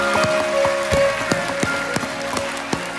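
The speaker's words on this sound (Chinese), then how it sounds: "我哋俾啲掌声啊" A concert audience at a Cantonese and Taiwanese campus folk song performance gives light, scattered applause. Distinct individual claps sound fairly close over a soft background hum and never build into a full ovation.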